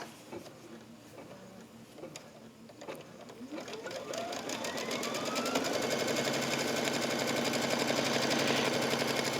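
A Brother embroidery machine stitches a long border piece onto an in-the-hoop pillow, a steady rapid mechanical chatter that rises and grows louder partway through, then runs on continuously close up with no voices.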